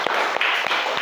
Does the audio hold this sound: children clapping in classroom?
yes